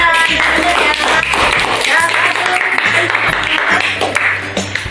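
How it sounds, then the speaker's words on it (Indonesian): A class of students applauds a student group in an English lesson at a junior secondary school, a dense, steady wash of clapping that lasts about five seconds, with a teacher's voice and classroom chatter mixed in. "Tepuk tangan untuk kelompok Eni dan kawan-kawan"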